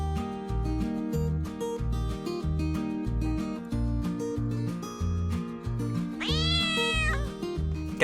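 A cat meows in a Minecraft cartoon: one drawn-out, fairly loud meow near the end over a steady, rhythmic music loop, with no talking.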